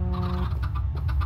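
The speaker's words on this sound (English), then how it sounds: "My chickens are probably, are they grown up yet?" Chickens cluck in a Tekkit Minecraft game, a loud, steady run of repeated clucks close up with no talking over them.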